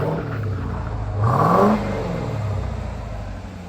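A 2018 Jeep Trackhawk with a Hellcat engine gives a single quick rev: a steady idle rumble swells briefly into a rising roar and settles back to idle, heard from a short distance.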